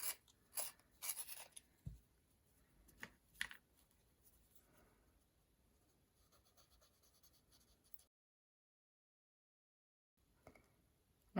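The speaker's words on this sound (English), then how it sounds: "just gonna sharpen my pencil" A pencil being sharpened during a drawing session, heard as a few quiet scraping, rasping bursts spread over several seconds, then a stretch of silence and a faint final scrape.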